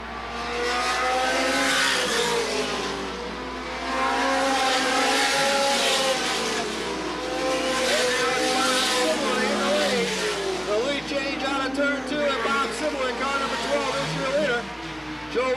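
Late model race cars roar around the Sandusky Speedway oval in a 1985 A main, a loud continuous engine howl with cars sweeping past, while an announcer talks over the racing.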